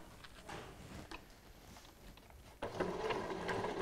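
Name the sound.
sewing machine stitching along piping cord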